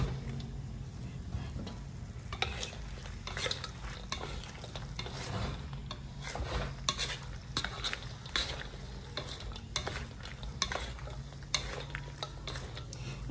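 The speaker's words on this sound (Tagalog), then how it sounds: "Haluin lang natin para mamix lahat, malagyan lahat yung saging." Banana slices being stirred in a pan to coat them while making banana chips, with a continuous sizzling hiss and repeated scraping strokes of a utensil against the pan.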